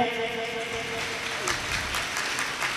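Enthusiastic applause from a crowd at a devotional Bhagavat Katha gathering, welcoming a donation, steady clapping sustained throughout.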